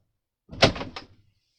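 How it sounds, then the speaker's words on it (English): A room door swung shut, giving one solid close-up thud and a brief rattle of the latch that dies away quickly in an otherwise silent room. "Close my door."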